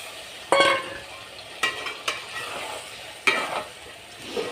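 Nola fish stirred with vegetables in a hot pan gives a steady low sizzle, broken by a few sharp spatula scrapes and clatters at irregular intervals, close by with no talking.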